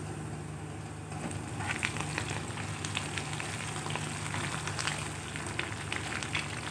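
Curry leaves hitting hot tempering oil for a karhi pakora tadka, with the flame just turned off, give a steady close crackle and sizzle with brighter pops and spits scattered through, and no voices.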